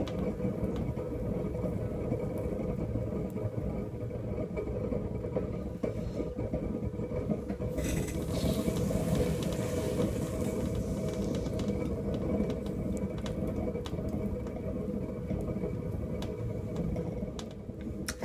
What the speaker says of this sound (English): I do throw on a motorized Randall wheel, so hopefully it won't make too much noise